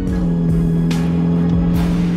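Tuned twin-turbo Ferrari 488 GTB driving at low speed, its engine holding a steady, loud, close drone throughout with a few brief bursts of higher noise layered on top; no talking.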